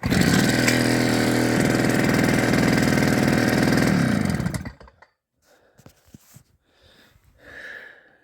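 Wacker BS52Y vibratory rammer with a WM80 engine kit running loud and close with a rapid, steady pulsing drone for about four and a half seconds, then cutting off abruptly, followed by faint clatter and quiet background noise.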